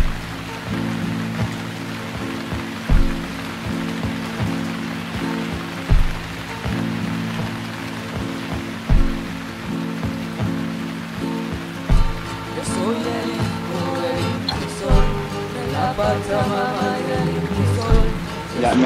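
Rain beginning to fall outdoors in a rural jungle setting, a steady wash of patter running throughout, with recurring soft thumps and faint background activity; some quiet voices may be present.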